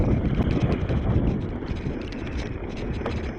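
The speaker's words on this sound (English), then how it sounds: "The wind is pushing me." Strong wind gusts roaring steadily across the microphone while cycling in the Rocky Mountains, a loud, continuous broadband rush that eases slightly toward the end.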